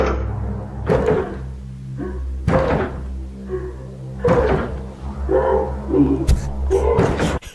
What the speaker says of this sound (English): There's a woman throwing herself against the door